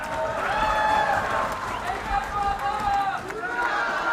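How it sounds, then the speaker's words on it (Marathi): Applause fills a hall at a felicitation ceremony for cricketer Suryakumar Yadav at the Maharashtra Vidhan Bhavan, a dense, sustained clatter of many hands with voices calling and talking loudly over it. "टाळ्या"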